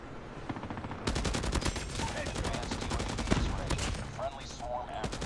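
A Hades machine gun fires in Call of Duty Mobile, a sustained rapid burst of loud, evenly spaced shots that starts abruptly after a quieter lead-in and continues to the end.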